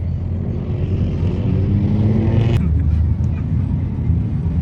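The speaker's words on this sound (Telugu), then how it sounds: "రెండు బైక్స్ పోతున్నాయి." Motorbikes pass by nearby with a rising, rumbling engine roar over steady traffic noise, then fade slightly as they move on, at the Liwa Festival desert fair in Abu Dhabi.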